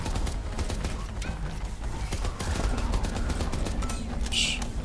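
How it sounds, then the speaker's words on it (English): An electric gun fires in the sci-fi video game From Space, rapid crackling bursts in a dense continuous volley, loud and close, with a brief higher whine near the end and no clear talk. "This electric gun is not doing enough damage."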